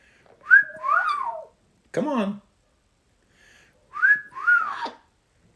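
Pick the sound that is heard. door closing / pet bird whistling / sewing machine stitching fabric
pet bird whistling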